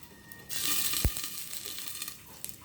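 Khud pitha, a broken-rice cake, sizzles and fries steadily in oil inside a covered pan, with a sharp crackle partway through and no voices.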